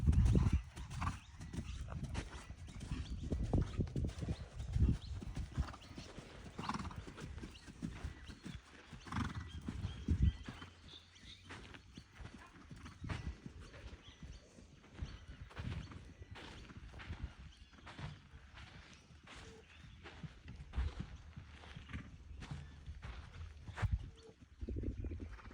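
Horse hooves clip-clop steadily through a jump training session, with occasional whinnies and breathing heard nearby over a busy outdoor background.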